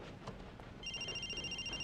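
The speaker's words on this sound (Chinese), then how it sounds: "要么静音，要么关机，非得铃声一直响再挂断" A mobile phone ringtone starts partway through and rings steadily with a bright, pulsing electronic tone in a quiet indoor scene, following a brief stretch of soft background noise.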